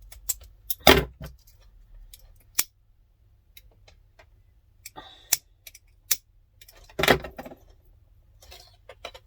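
Scissors snip zipper tape in a handful of separate sharp cuts close to the mic, with quiet handling noises between them.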